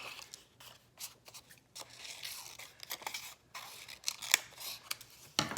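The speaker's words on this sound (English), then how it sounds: "Cut a little wavy line." Scissors snip paper into a wavy, lettuce-like strip for a cheeseburger collage, a run of close, quiet, irregular cuts and crunchy paper rustles with no voice.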